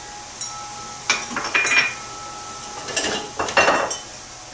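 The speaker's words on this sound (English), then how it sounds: "And I'll whisk that all together." Whisk clinking against a bowl while stirring a seasoning mixture with onion and paprika, two short bursts of rapid metallic scraping and tapping, close and fairly quiet.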